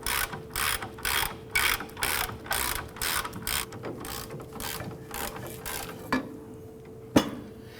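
A hand ratchet clicks rhythmically while threading in a control arm bolt on a 2008-2011 Ford Focus rear suspension, with a run of steady close strokes that slow and fade, ending in a couple of metallic clanks.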